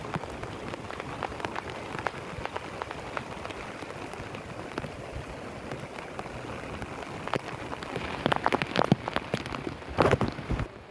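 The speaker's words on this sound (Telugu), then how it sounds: "ఫుల్ వర్షం, ఒక వరదలు చూడండి ఈదికెళ్ళి వస్తున్నాయి" Heavy rain falls in a steady, dense hiss near a flooding village pond, with scattered louder drops and splashes toward the end.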